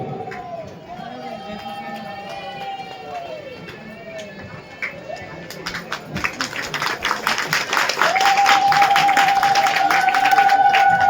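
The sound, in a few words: audience applause at award ceremony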